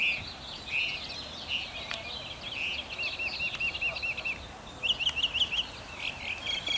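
Sparrows and hummingbirds in a cemetery trill and chirp in quick repeated runs of bright notes, steady and moderately close, over a soft background hiss.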